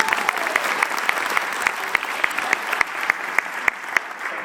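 A school band concert crowd claps for an improvised flute solo, a dense, steady wash of applause with sharper individual claps popping out regularly, lasting a few seconds without talk.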